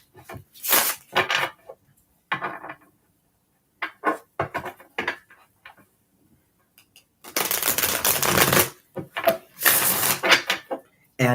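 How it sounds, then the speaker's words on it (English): Gilded Tarot cards are shuffled in a couple of bursts, a crisp riffling flutter close to the microphone, with pauses between shuffles. "Give them a couple good shuffles."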